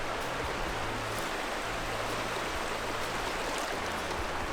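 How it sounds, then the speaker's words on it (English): West Stony Creek flows steadily in the Adirondack woods, a constant close rush of water. It is filling a water filter bag, and no voices are heard. "The way the creek is moving fills the bag up real quick."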